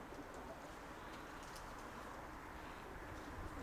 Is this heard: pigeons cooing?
yes